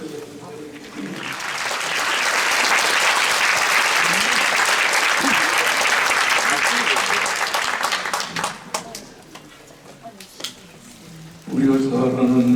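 A church congregation applauds the pastor at an Easter thanksgiving service, a dense, sustained wash of clapping that swells and holds for several seconds, then thins into scattered claps before a voice speaks at the end.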